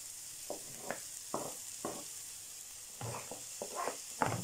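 Onions, garlic and peppers fry in a pan under a soft, constant sizzle, broken by about a dozen short scraping bursts as the vegetables are stirred.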